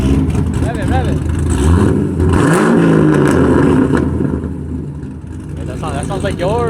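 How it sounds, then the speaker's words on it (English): A Lamborghini Temerario fitted with a Voodoo exhaust revs up close, its engine note rising and swelling loudly, then easing and climbing again, while people talk nearby. "Rev it."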